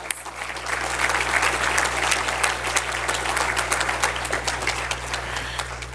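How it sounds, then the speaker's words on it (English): Audience applause for the venue staff at a political conference, a roomful of people clapping steadily and fairly loudly for several seconds over a low hum. "let's give the staff here a round of applause"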